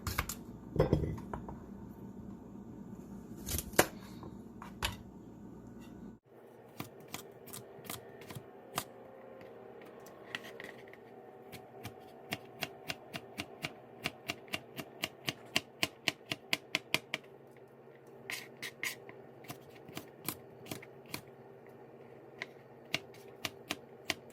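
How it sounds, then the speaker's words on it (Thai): A knife slicing cucumber against a cutting board in quick, uneven strokes, close and fairly quiet, with short pauses between bursts. "ส่วนแตงกบก็จะหั่นนะ"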